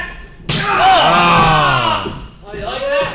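Loud wrestling slap in an arena, a single sharp impact followed by a long ringing echo through the hall, with crowd noise swelling around it and commentary talk faintly present.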